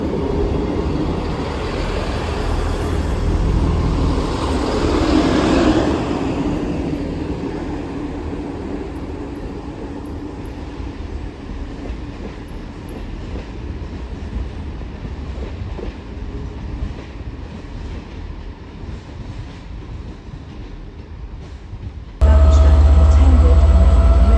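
A train runs past on a different line at a Welsh railway station, a loud rumbling roar that swells and then slowly fades as it pulls away, ending in a sudden steady hum.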